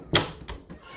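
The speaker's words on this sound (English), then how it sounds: "we close this door." Indoor door closed to keep cats out, a single sharp close thud followed by a couple of fainter knocks and rattles.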